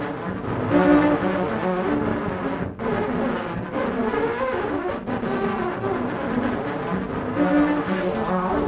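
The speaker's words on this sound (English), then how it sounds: "But even taking just a single sound like this one and adding some distortion to it" A distorted solo string effect from the 8Dio CASE sample library plays as a dense, buzzing, sustained drone with gritty overtones, loud and continuous with brief dips, heard alone without any voice.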